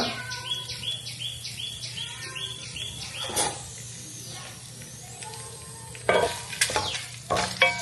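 A tempering of peanuts, cut Byadgi chillies, curry leaves, urad dal and chana dal sizzles in hot oil with stirring scrapes and clatters, while birds chirp in the background.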